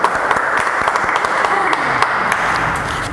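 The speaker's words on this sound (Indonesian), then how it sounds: "kasih tepuk tangan dulu dong" An audience applauds, dense clapping from many hands filling the room at a steady level for a few seconds.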